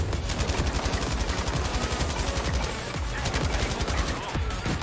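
Automatic gunfire from the video game Battlefield V, with dense, loud, continuous bursts of machine-gun fire that overlap into an unbroken battle roar.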